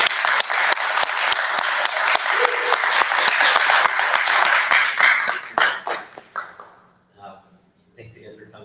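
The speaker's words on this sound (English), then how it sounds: "Can we do one more round of applause?" An audience applauds at the close of a panel discussion, a dense, steady round of clapping that thins out and fades after about six seconds, with voices audible as it dies away.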